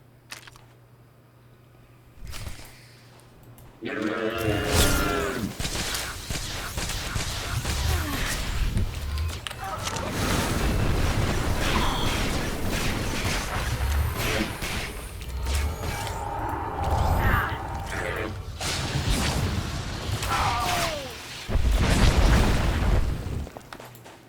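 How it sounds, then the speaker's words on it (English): In the Star Wars: The Old Republic bounty hunter story, weapons open fire amid booming explosions, a dense loud barrage of blaster shots and blasts that runs almost continuously after a quiet start. "Open fire, NK!"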